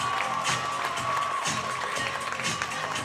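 Park Rapids basketball fans on their feet in a gym, a dense continuous roar of cheering and applause filling the whole moment.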